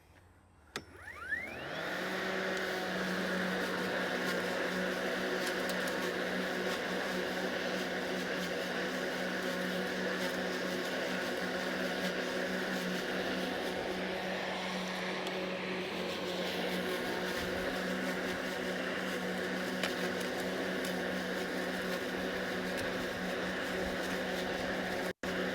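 A Makita XGT 40V Max cordless lawn mower starts with a quick rising whir and then runs at a steady, even motor whine for the rest of the clip, with no talk.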